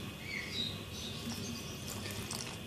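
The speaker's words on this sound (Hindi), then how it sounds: "नीम गर्म पानी थोड़ा थोड़ा करके शामिल करेंगे।" Lukewarm water trickles steadily, a little at a time, into a bowl of naan dough made with yogurt and oil. The pour is soft and continuous, with faint birdsong in the background.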